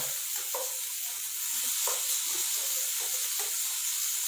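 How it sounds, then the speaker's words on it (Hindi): Vegetables sauté in a pan with black pepper and garam masala, giving a soft, steady sizzle with occasional stirring scrapes and clinks, fairly quiet and without talk. "ये सब्जियां भी हमारी अच्छी तरह सौते हो गई हैं।"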